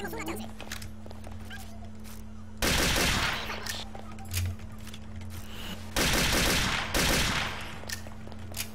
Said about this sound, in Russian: у меня, блядь, калаш 5 раз точнее стреляет